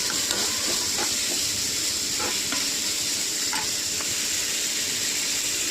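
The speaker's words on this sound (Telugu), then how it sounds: "ఉల్లిపాయలు పచ్చిమిరపకాయ సాఫ్ట్గా ఫ్రై అయిన తర్వాత క్యారెట్ వేసుకోవాలి" Onions, green chilies and carrot sizzle steadily in hot oil for a lunch-box dish, a continuous close frying hiss with occasional stirring scrapes and no talking.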